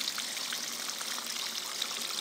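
Pumped water washing through a small shaker on a mini gold wash plant, a steady close hiss of pouring and splashing water with no break and no voices.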